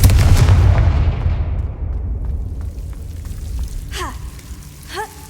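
A fiery Confringo spell blast in the Hogwarts Legacy video game bursts with a loud, deep boom that rolls off into a crackling, decaying rumble, followed by a couple of short whooshing effects.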